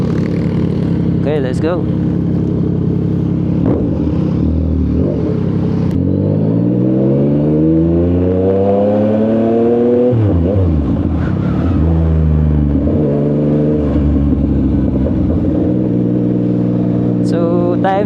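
A Yamaha MT-09 SP motorcycle fires up from cold, then revs and pulls away through rising and falling gear sweeps, loud and close, with someone talking briefly over the engine.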